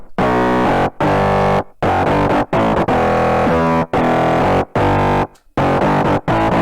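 Heavy, distorted synth bass layered with another bass, made in FL Studio Mobile for future bounce music, plays loud in choppy bursts separated by brief silences, gritty and thick with no voices.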